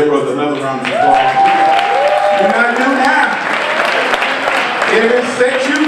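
Crowd applause at a poetry reading, steady and fairly loud, with voices cheering and talking over the clapping.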